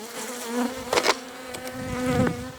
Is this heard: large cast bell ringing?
no